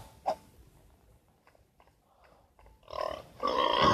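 A pig in a Minecraft-style survival video game grunts in two bursts near the end, following a sharp click and quiet game sounds.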